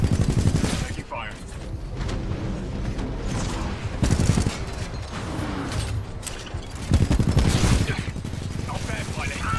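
Heavy gunfire and booming impacts during Titan combat in Titanfall 2, dense and continuous with metallic mechanical clanks, while voices talk over the battle.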